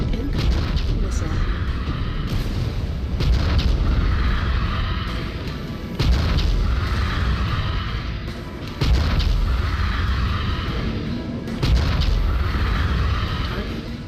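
Missile explosions in the MechWarrior 5 video game, a run of heavy, rumbling booms arriving every couple of seconds over a constant low mechanical drone, loud and close, with game voices speaking.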